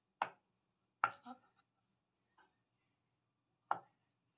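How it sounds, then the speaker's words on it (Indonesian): A knife chops through tofu on a cutting board in a quiet kitchen, giving a few crisp, separate cuts with pauses between them and no talk. "Potong tahu sesuai selera aja."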